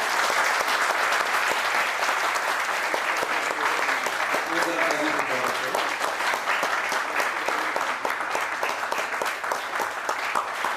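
Loud, sustained applause from a theatre audience honouring the director of a folk drama festival play, dense steady clapping filling the whole stretch with a brief tonal murmur midway.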